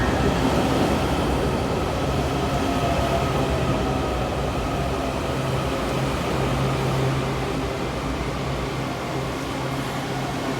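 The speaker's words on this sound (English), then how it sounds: "This is a red line train to Glenmont." A Red Line metro subway train bound for Glenmont, heard as a loud, steady mechanical roar with a humming drone, continuous throughout with no voices over it.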